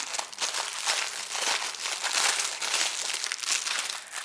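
A plastic bag crinkles continuously and fairly loudly up close as it is opened, dense rustling without pause for about four seconds.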